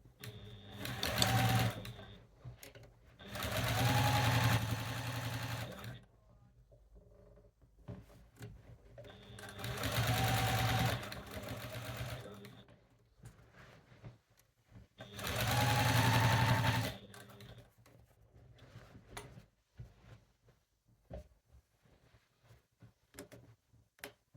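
A sewing machine stitches down quilt squares in four separate runs of a few seconds each, loud and close, with quieter clicks and fabric handling between bursts.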